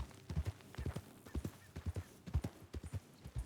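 Hooves of a Tennessee Walker horse clip-clop steadily in the Red Dead Redemption 2 video game, a quiet, even rhythm of soft paired strikes continuing throughout.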